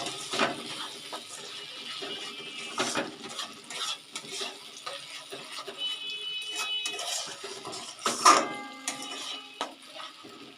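Ground spice paste is stirred in a hot pan, with scraping strokes and utensil knocks recurring under a light frying sizzle, close by and without speech.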